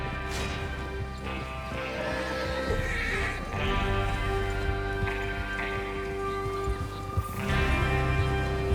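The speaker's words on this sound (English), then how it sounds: "Get your horses ready." Horses whinny repeatedly and hooves clip-clop in Red Dead Redemption 2, with a loud neigh near the start and another near the end over a low rumbling game ambience.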